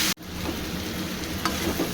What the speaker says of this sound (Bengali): এবার দিয়ে দেবো এই চিংড়ি মাছটা। একটু নেড়ে ছেড়ে নেব মশলাটার সঙ্গে।